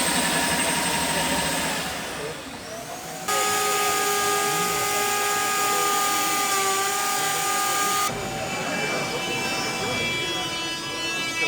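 A Milwaukee wet vacuum sucks up water at a tool event in Rome: a loud, steady hiss with a sustained whistling tone that swells for several seconds, while people talk nearby.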